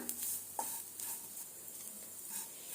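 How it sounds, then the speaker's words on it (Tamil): Grated coconut sautéed dry in a pan without oil, soft intermittent stirring scrapes and faint light sizzling, quiet and close with no talking. "இப்போ தேங்காவை ஓரளவுக்கு செவக்க வதக்கிக்கலாம்"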